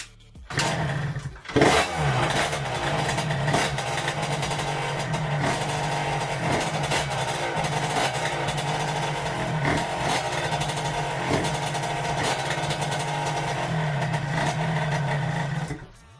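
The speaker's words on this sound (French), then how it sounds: "Bon, là, on va la démarrer, on va voir." A scooter fitted with an 88cc Stage6 Big Racing kit and showing engine damage cranks and catches after a brief pause, then idles close and loud with a steady, slightly uneven putter and no voices.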